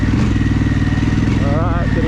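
A Harley-Davidson Pan America motorcycle rides over rough, rocky off-road terrain, its engine thrumming in a steady, close, pulsing rumble while a rider talks over it.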